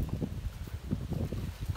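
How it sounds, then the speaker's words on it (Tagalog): Strong wind buffets the microphone in a cornfield while fertilizer is being applied, in heavy, uneven low gusts that rumble and thump throughout. "katulad nito, lakas ang hangin o"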